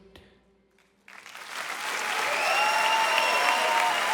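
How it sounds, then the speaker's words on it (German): A large audience at a Swiss TV hit-music show breaks into applause after a song, starting abruptly after a brief quiet tail and swelling into a loud, dense, sustained roar of clapping and cheering. "Ein Applaus."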